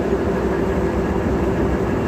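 A DEMU train at Siddipet railway station gives a steady, loud, unbroken mechanical rumble close by, with no voices.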